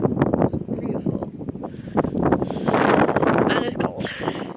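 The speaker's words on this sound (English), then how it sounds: "It's very windy." Strong gusts buffet the microphone at an outdoor viewpoint, loud rumbling bursts of wind that swell and fade while a person speaks close by.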